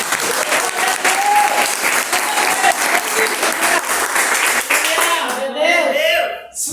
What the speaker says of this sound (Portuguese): Quando você pode aplaudir só por isso